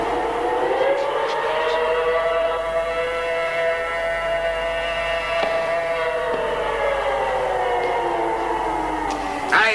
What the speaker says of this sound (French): Mettez la sirène en marche.